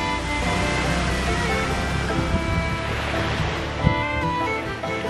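Waves of a wide sea breaking on a rocky beach flanked by mountains: a continuous wash of surf with a swelling, rolling texture, moderately loud and close, with a brief thump near the end.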